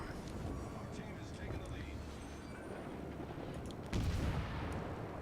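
Warship guns firing in World of Warships, a steady low rumble of naval gunfire and battle noise with a louder booming burst near the end, under a voice talking.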